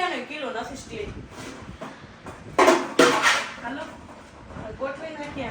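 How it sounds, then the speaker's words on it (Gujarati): Metal household utensils being arranged on a loft shelf during Diwali cleaning, with scattered clinks and a couple of louder clatters under ongoing talk. "હવે વાસણ ગોઠવાય છે"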